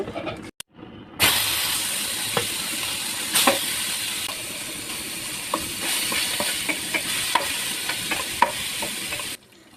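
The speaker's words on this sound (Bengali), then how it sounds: "পুঁটি মাছগুলোরে খুব সুন্দর করে ভাইজা নিলাম" Small puti fish coated in salt, chili, turmeric and coriander powder fry in hot oil, a loud continuous close sizzle with scattered crackles and pops that starts abruptly after a brief quiet moment.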